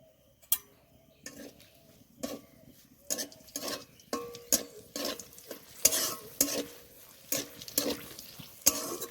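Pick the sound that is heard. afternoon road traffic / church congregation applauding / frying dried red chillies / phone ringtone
frying dried red chillies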